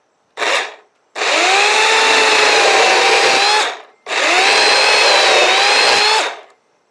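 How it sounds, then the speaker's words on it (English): A Saker mini chainsaw cuts wood in a garden: a short burst, then two long, loud, steady buzzing runs of several seconds each, the motor pitch dipping and rising under load, with clear pauses between. "as a little chainsaw, I mean, it certainly seems to do a decent job"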